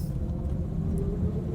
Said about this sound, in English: It's idling, 600 RPM in gear.